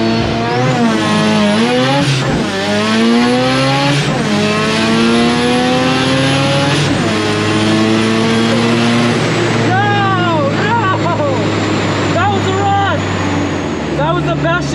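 Drag race car launching hard and shifting through gears, each shift followed by a rising roar, close and loud.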